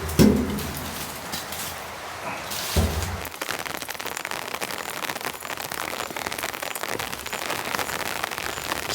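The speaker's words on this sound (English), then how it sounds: "just relax and listen to this rain." Heavy rain falls on a wooden shack in a steady, close, even hiss, with a few louder knocks and thumps near the start.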